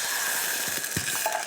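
Coconut milk sauce with ginger and chili bubbles and crackles in a pan, a steady close sizzle with small irregular popping bursts throughout.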